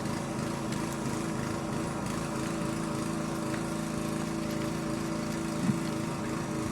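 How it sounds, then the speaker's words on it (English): A portable generator drones steadily across the way, a constant mid-distance engine hum with rough buzzing texture under outdoor ambience, no voices present. "testing out their portable generator across the way."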